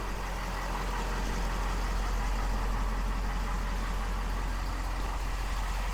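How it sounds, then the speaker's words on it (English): A Ford F450 with a 6.7 Powerstroke diesel idles steadily after an oil change, a constant low rumble with a broad mechanical hum that holds level and close by, without pauses or changes in pitch. "Engine sounds good, letting it run, letting it build up pressure"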